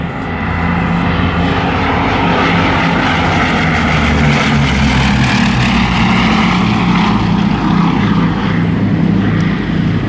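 Bristol Blenheim propeller aircraft flying at the Southport airshow 2024, a loud, steady droning engine roar that holds close and strong throughout.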